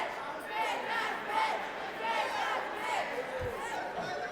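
A wrestling crowd at a Juggalo Championship Wrestling show chanting insults at Matt Cross, a rhythmic, repeated group chant rising and falling in waves under the noise of the arena.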